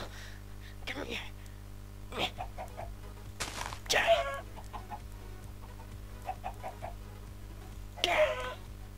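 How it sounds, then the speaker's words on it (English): Video game chickens in a Minecraft-style survival world give short clucks and squawks in scattered bursts, while a player talks excitedly over them and a steady electrical hum sits underneath. "Two chickens! Mr. Chicken, Mrs. Chicken, baby chickens!"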